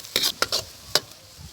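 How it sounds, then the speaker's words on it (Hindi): Turmeric and spices sauté in a pan as a utensil scrapes and stirs in a few sharp strokes over a faint, steady sizzle, with no talk. "यहाँ पे डालेंगे हम हल्दी जो है हमारी, और उसको फिर सौते करेंगे"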